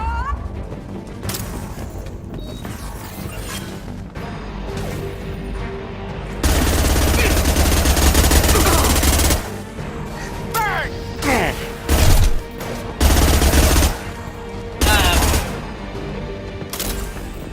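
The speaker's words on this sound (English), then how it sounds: "I'm taking fire." Gunfire bursts in the Mass Effect 2 video game combat, loud volleys from about 6 seconds onward with short sharp clusters later, over game effects and a voice speaking.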